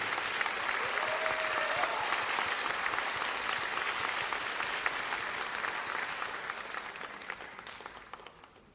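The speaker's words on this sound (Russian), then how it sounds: "Ваши бурные овации" Loud, sustained applause from a large concert audience fills the clip, steady at first and then gradually fading toward the end.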